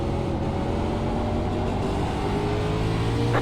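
Race cars at Martinsville in a racing video game roar steadily as they accelerate, their engine drones climbing through upshifts, loud and continuous with no talk over them.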